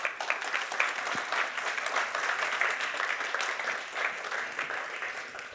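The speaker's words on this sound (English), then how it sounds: "Can we give a round of applause, please, ladies and gentlemen?" Steady, dense audience applause at a conference panel session on the European Green Deal Industrial Plan, sustained at an even level throughout the clip without a clear peak or fade.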